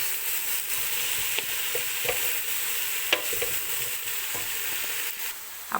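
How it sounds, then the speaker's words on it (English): Tuna and vegetable pasta sizzling steadily in a pan on high heat while a utensil stirs it with scraping clicks, loud and close with no voices. "I'm just gonna go ahead and give that a thorough stir."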